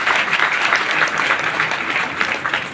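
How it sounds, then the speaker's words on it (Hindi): An audience claps loudly in honour of three guests at a ceremony, with dense, fairly close applause that pulses in small waves and tapers off at the end. "मैं चाहूंगा इन तीनों ही महान हस्तियों के सम्मान में दिल की गहराइयों से एक बार जोरदार तालियां हो जाएं।"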